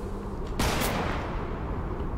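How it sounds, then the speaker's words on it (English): A single sharp gunshot cracks out in the Fortnite video game, followed by a brief decaying tail over a steady game background, with no talking. "Are you shooting at me?"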